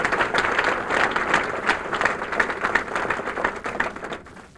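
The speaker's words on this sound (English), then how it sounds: "Let's give him a great round of applause" Audience applause at a 1996 public event, a steady wash of many hands clapping together that holds evenly for several seconds before thinning and fading at the end.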